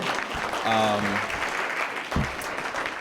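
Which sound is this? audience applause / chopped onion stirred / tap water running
audience applause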